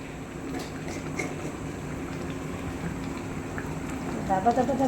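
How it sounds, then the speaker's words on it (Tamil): A pot of chicken bubbling steadily at a boil on an induction cooker, a continuous wet simmer with faint clicks, growing slightly livelier at the end. "தப்பன்னு கொதிக்கிறது."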